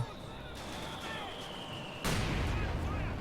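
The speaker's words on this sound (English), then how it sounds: "Mortar is firing." A mortar fires in the World War II strategy game Company of Heroes 2: a single sharp, heavy boom about two seconds in, fairly faint, over a quiet battlefield background with a thin steady tone.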